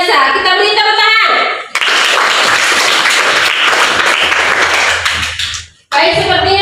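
Classroom applause breaks out between stretches of speech, a burst of children's clapping lasting several seconds, then cut off as talking resumes.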